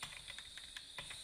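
Faint computer keyboard typing while writing React code, a steady run of light clicks over a constant background hiss.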